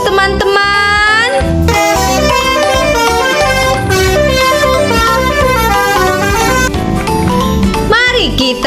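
A toy bus plays a bus telolet horn, a loud, bright melodic honking tune of repeated musical horn notes running continuously, ending with a rising whistle-like sweep.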